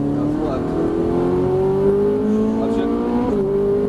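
A Ferrari 458 Italia accelerates hard out of a corner on a Las Vegas track, its engine note rising steadily in pitch, loud and close, with a brief drop at an upshift near the end, while an instructor's voice talks over it.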